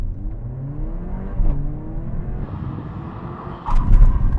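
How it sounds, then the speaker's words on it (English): An older Mercedes-AMG A45 accelerates hard toward 50 mph, its engine note climbing steadily through several gear changes, with a rougher low surge near the end. "I'm going to accelerate up to 50 miles an hour, then do a full emergency stop"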